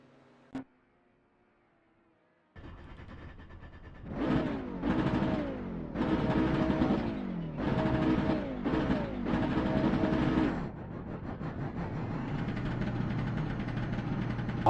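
A car engine in a driving game revs hard through a string of roughly six climbing surges, each cut by a gear change, then settles into a steady drone. A brief click comes first, then near-silence before the engine starts.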